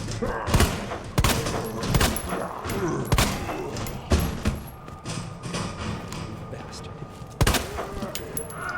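Gunshots in Resident Evil 2 ring out as a series of loud, sharp reports about a second apart, each with a heavy thud, over a murky game ambience with speech mixed in.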